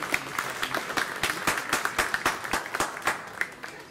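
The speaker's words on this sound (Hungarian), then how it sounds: "Egy nagy tapsot Zsigmond Gábornak" An audience at a museum talk gives a round of applause, with about a dozen distinct, fairly sparse claps sounding at a steady rhythm from a modest crowd.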